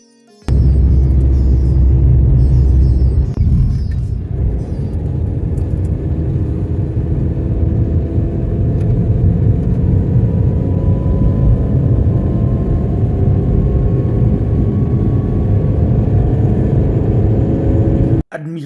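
Loud, continuous road traffic on the winding mountain pass road along the Dschang cliff: a heavy engine rumbles nearby and rises in pitch for most of the stretch before cutting off abruptly.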